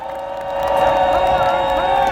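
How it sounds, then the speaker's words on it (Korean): A large outdoor crowd at a Daejeon citizens' rally cheers and applauds, a steady dense roar that swells and holds, with a voice carrying over it. "우리가 이렇게 힘나게 해주신 우리 뿌리버들께 다시 한번 큰 박수 부탁드립니다"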